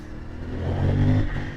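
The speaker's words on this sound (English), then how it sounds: "Absolutely fantastic sounding engine." A CFMOTO 450MT 450cc motorcycle engine revs up close, rising to a throaty peak and easing off, loud and brief with no talking.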